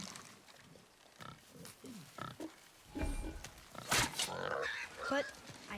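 A wild boar in God of War grunts and squeals in short, rough bursts, moderately close, with in-game footsteps and rustling and someone talking.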